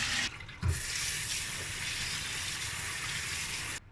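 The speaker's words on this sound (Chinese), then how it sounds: "现在我们把这泡好的糯米清洗一下。" Soaked glutinous rice is rinsed under a running tap, a steady close splashing gush that flows without a break for nearly four seconds after a short pause near the start, with no voices.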